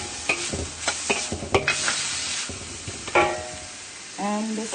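Carrots being stirred into a pan of spicy tuna fried rice: a few sharp scraping clacks of a utensil against the pan over a low sizzle, with a brief rattling clatter near the end.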